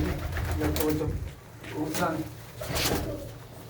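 Pigeons coo in soft, low, repeated throaty phrases close by, the calls rising and falling in a slow rhythm amid light background noise.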